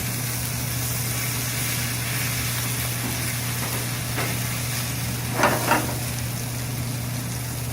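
Spätzle frying in a pan with onions and Emmental cheese, a broad constant hiss and sizzle with a low hum underneath and a couple of brief soft scrapes near the end.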